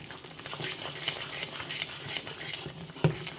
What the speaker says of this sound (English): Now let's give this a good stir so that all the spices